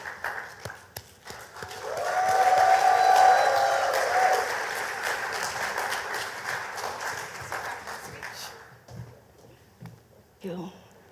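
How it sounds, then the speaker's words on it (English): Conference audience at a Grenada creative industries event clapping for a fashion brand founder, swelling to a sustained round with whoops over it, then fading as a speaker talks. "Well, you clap already? Clap again."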